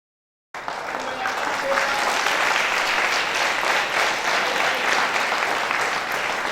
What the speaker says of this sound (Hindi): जोरदार हम प्रभु के दास के लिए ताली बजाएं।